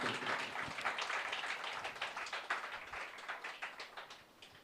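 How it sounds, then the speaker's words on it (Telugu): A church congregation at a Sunday service claps loudly for Jesus, a dense rapid stream of many hands close by that thins slightly toward the end, with no speech over it. "కొట్టు చప్పట్లు గట్టిగా యేసయ్యకి."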